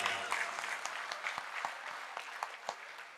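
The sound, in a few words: audience applause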